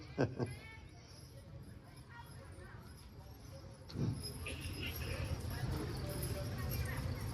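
A pair of draft horses' hooves clip-clop at a steady, unhurried pace on pavement nearby at a county fair, with a low background rumble and occasional faint voices.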